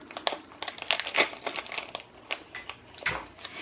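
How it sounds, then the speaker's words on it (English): Plastic favor bag being sealed with ordinary household Scotch tape, giving close, quiet crinkling and crumpling in irregular bursts throughout. "you're going to seal this with regular household Scotch tape"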